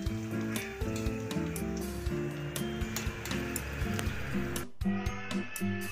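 Fish roe fritters sizzle steadily in a hot pan, a continuous close crackle of frying oil with a faint tonal hum running underneath and a brief dip near the end.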